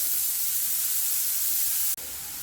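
Onion sautéing with a pinch of salt in a pan for chicken and rice gives a steady, even hiss with no talk over it, and a brief dropout near the end.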